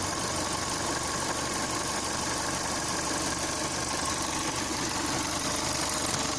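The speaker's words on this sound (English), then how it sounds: "So this is how the engine works after changing the purge valve." Opel Insignia A16LET engine runs steadily after a purge valve replacement, giving a continuous, even idle drone with a faint ticking texture, recorded close and without talk.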